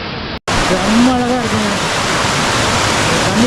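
The Kumbhavurutty waterfall in a Kerala forest gives a loud, steady rushing roar of falling water, with a voice talking over it after a brief cut at the start.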